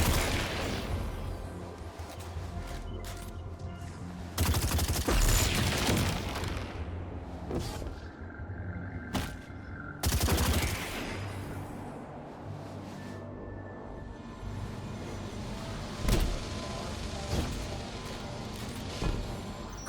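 Repeated weapon fire and booming impacts in Destiny 2 as a guardian shoots arc wall nodes, loud bursts recurring every few seconds over a continuous buzzing electrical hum.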